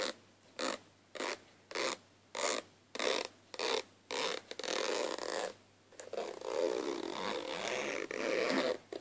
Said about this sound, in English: Really like the sound of zips.